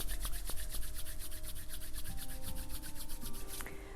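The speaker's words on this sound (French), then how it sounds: "on frotte nos mains." Hands rub together briskly during a teen yoga session, a fast rhythmic swishing friction sound, close and quiet, with no talk over it.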